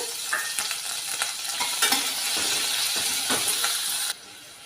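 Chopped onion and green chillies frying in a pan for millet sambar rice, a close, steady sizzle punctuated by sharp scraping and clinking stirs, the sound dropping off abruptly near the end.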